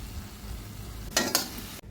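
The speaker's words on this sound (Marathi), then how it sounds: "ते सगळं मिश्रण व्यवस्थित परतून घ्यायचं आहे मिक्स करून घ्यायचं आहे" Coconut and jaggery filling being stirred and sautéed in a pan, a soft continuous sizzle with two quick scraping strokes of the spoon near the end, close and with no talking.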